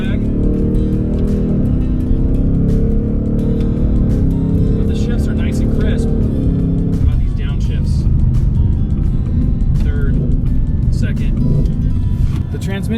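A 2024 Ford Mustang Dark Horse drives under steady load, its engine note dropping and shifting as manual-mode gear changes come through, with someone talking over it throughout.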